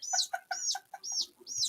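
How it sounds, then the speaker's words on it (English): A duck gives four loud, close calls in a quick evenly spaced series, each a bright, reedy cry with short gaps between, and no voices over it. "that duck is getting frisky"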